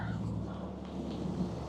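Steady rain falls outside a Lowe's store, a dense broadband patter with a low rumbling hum underneath, constant and close throughout.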